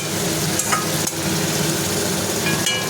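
Egg curry cooks down in a pan to a thick, semi-dry masala, giving a steady close sizzle with scraping stirs and a few sharp spoon knocks against the pan throughout.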